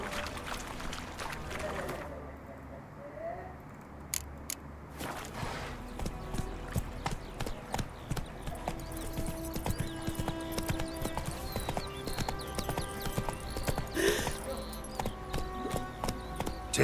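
Horse hooves clip-clop steadily over ground in The Witcher 3 as the rider's mount moves along, a brisk close rhythm with game ambience and occasional voices around it.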